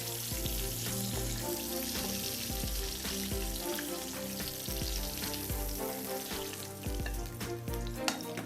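Tomatoes sizzle and crackle steadily in hot oil, a dense, continuous frying hiss with occasional pops.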